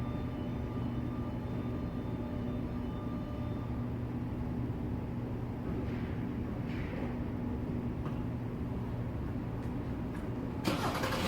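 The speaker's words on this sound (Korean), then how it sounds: "자 시동을 한번 걸어보겠습니다" A car engine runs at a steady, low, humming idle throughout after being started, close and fairly quiet, with a few light clicks and a sharper knock near the end and no talking.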